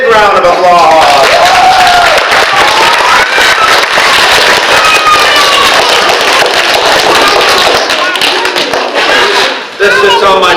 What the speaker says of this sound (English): I'm going to listen to my first really big round of applause.